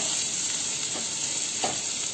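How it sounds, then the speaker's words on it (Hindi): Finely chopped onion fries in a pan with cumin, a loud, continuous close sizzle broken by a couple of brief stirring scrapes. "भूनने लगे तो आपने इसमें डालना है बारीक कटा हुआ प्याज। प्याज को आपने भूनना है।"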